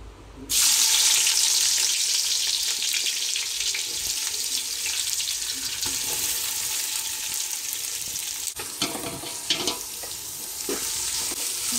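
Onions dropped into hot oil for biryani, bursting into a loud sizzle that settles into steady crackling frying with occasional stirring noises, close up.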